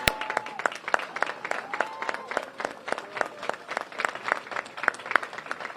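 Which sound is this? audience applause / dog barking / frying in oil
audience applause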